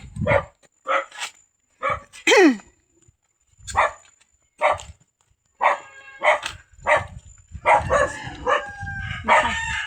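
A dog barks repeatedly in short, loud bursts at an uneven pace, with a rooster crowing in between and other animal noises close by.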